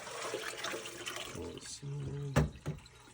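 Water is dumped out into a sink, a gushing splash building then ending in a couple of sharp splats, with a person talking quietly beforehand.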